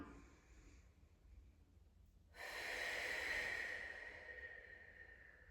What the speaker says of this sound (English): I reach this arm forward to try and help me rotate a tiny little bit, and then big smooth exhales down